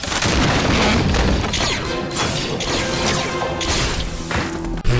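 Cannon fire in a Star Wars battle scene, a dense, loud, sustained roar of blasts, crashes and heavy impacts layered with mechanical clatter, with a sharp hit near the end.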